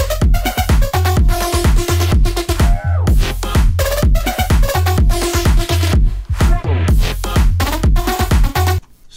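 A loud, distorted synth lead with OTT compression plays a fast, choppy melody over punchy bass hits, with bright buzzy effects filling the mix and no voices.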